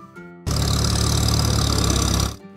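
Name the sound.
car engine vroom sound effect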